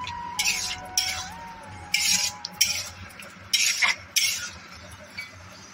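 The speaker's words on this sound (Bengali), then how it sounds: "প্রথমে দিয়ে দিচ্ছি আলুগুলো, আলুর সাথেও মশলাটাকে আরেকবার করে কষিয়ে নেব।" Potatoes stir-fried with masala in a pan, a metal spatula scraping and clattering in short bursts at an uneven rhythm, with a faint steady tone and quiet sizzle in the background.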